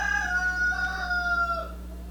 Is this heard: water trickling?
no